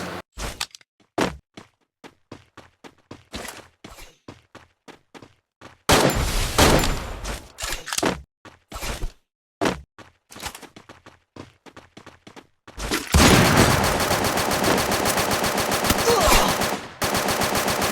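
Gunfire in the mobile battle royale game Free Fire: a scattered run of single shots, then a dense automatic burst around six seconds, more separate shots, and finally a long sustained loud volley, with no talking.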